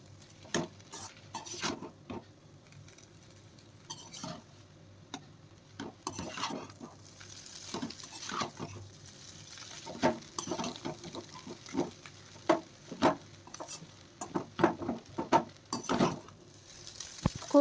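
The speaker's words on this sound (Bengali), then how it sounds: "গ্যাসটাকে মিডিয়াম ফ্লেমে রেখে চাউমিনটাকে খুব ভালোভাবে মিশিয়ে নেব" Chow mein with soy sauce is tossed in a pan over a medium gas flame, with frequent metallic scrapes and clacks of a spatula over a low sizzle. The stirring is rhythmic and close, gets busier toward the end, and no one talks.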